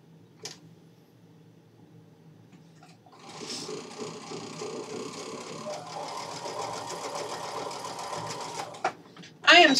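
A sewing machine stitches a quilted winter table runner of half-square triangles, starting after a few quiet seconds and then whirring close and steady, with a sharper clatter at the very end.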